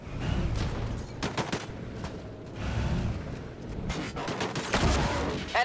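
Gunfire in the sci-fi shooter game Disintegration, with dense bursts of automatic shots and sharp cracks over a rumbling battle bed, clustered in several loud volleys across the stretch.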